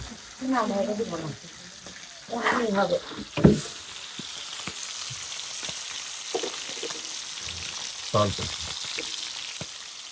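Fish from a home pond fries in a pan, a soft continuous sizzle that carries on beneath several stretches of conversation and a brief clatter.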